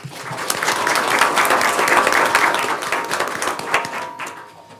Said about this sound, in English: please give her a round of applause anyway.